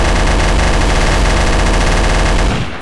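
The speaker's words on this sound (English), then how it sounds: "Oh, he's shooting at me!" Sustained, loud automatic gunfire from a firefight in Trouble in Terrorist Town, a dense rapid stream of shots filling nearly three seconds before cutting off abruptly.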